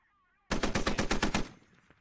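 A rapid burst of automatic gunfire from the video game Squad rips out loud and close, about a dozen evenly spaced shots in one second, then falls away to a faint tail.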